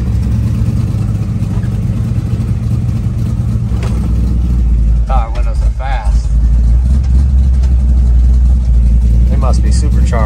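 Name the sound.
supercharged 1963 Chevrolet Impala restomod engine running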